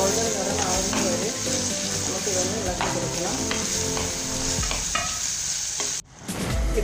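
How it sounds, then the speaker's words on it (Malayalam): Shallots, garlic, ginger and chillies stir-fry in a pan for a Kerala-style prawn curry, with a continuous bright sizzle and steady scraping of the spoon, close up, then a short drop and a clatter near the end. "ഇപ്പോൾ നമ്മുടെ ചെറിയ ഉള്ളിയും വെളുത്തുള്ളിയും ഇഞ്ചിയും എല്ലാം നല്ലതുപോലെ ഫ്രൈ ആയി വന്നിട്ടുണ്ട്."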